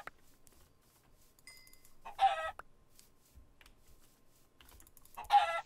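Two short bursts of clucking chickens from a video game stand out over a quiet background with faint clicks in between.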